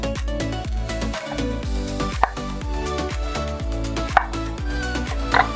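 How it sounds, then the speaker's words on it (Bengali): Potatoes being cut with a knife on a board for a Bengali aloo bori jhol, a steady run of close, repeated chopping taps with a few sharper knocks standing out. "এখন আলুগুলোকে কেটে নেব"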